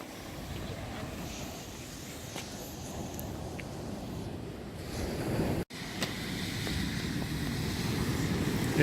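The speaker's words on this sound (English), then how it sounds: "Listen to the water." Sea water sloshing and waves washing around a boat off the Canary Islands, a continuous broad rush with wind buffeting the microphone, growing slightly louder toward the end.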